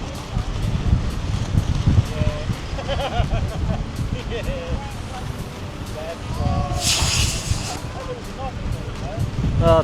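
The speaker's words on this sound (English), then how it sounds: "Must be 30 or 40 knots the wind." Strong wind of around 30 to 40 knots gusts at a windsurfing shore, rumbling and buffeting the microphone throughout, with people talking over it and distant chatter.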